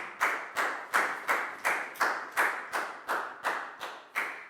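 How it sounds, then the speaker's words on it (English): Rhythmic clapping in a Year 4 maths classroom for a student, about a dozen evenly spaced, sharp claps at a steady pace, close and clear with no talk over them. "High five and a big round of applause for Pangpon"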